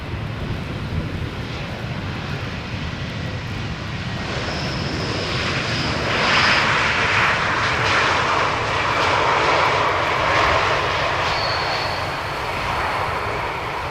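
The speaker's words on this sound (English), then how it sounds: "Arriving from Malaga. Transavia A321 Neo." A Transavia A321neo airliner arriving from Malaga at Amsterdam Schiphol's Polderbaan runway roars overhead in a long, steady engine rumble that swells toward the middle and slowly fades, heard from outdoors at a distance.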